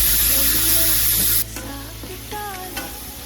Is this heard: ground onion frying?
yes